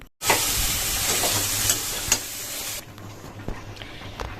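Potatoes and eggplant fry with spices in a pan, a steady loud sizzle with stirring scrapes that drops sharply partway through to a quieter crackle with occasional clicks.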